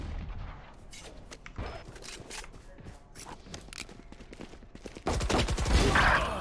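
Gunfire in a Valorant match: scattered sharp shots and clicks at varying distances, building to a louder burst of firing near the end.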